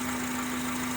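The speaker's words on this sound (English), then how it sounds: "Now the engine has been running for about 30 minutes" A car engine idles steadily while air is bled from its coolant system, giving a continuous even drone with a strong low hum throughout and no voices.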